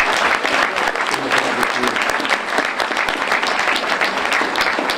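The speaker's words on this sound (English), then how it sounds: "Clap your hands if you believe." A crowd at a NAACP Martin Luther King Jr. breakfast claps hands loudly and continuously, a dense rapid patter of applause close by for about five seconds with faint voices mixed in.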